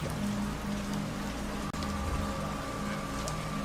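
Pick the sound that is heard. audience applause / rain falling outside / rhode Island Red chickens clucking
rain falling outside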